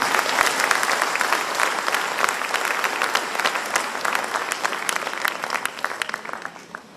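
A packed auditorium at a state lawyers' conference in Solapur gives a strong round of applause. The clapping is dense and steady for several seconds, then gradually thins out toward the end.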